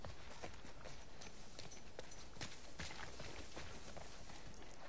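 Horse hooves in the video game The Last of Us Part II, a run of clip-clopping steps on the ground, faint and steady beneath a constant outdoor hiss.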